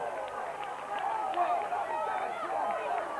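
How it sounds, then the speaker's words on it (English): Wrestling crowd at an FWA Frontier Wrestling show chanting a ten count in unison after a finishing move, a steady roar of many voices with rhythmic rises, fairly loud and continuous. "The crowd counting"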